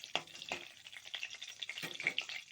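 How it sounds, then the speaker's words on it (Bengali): Bay leaves and whole cumin frying in hot oil, a faint crackling sizzle with small pops and soft spoon scrapes, close and quiet throughout. "তেলটা গরম হয়ে গেছে, তাই আমি তেজপাতা দিয়ে দিলাম, গোটা জিরে দিয়ে দিলাম"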